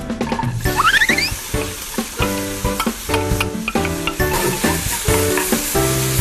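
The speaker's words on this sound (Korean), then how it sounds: "양파가 타지 않게 요리조리 잘 휘저어주며 볶아주세요." Minced onion sautéing in a little oil in a pan for cream croquettes, a bright, close, crackling sizzle broken by repeated stirring scrapes, with no one talking.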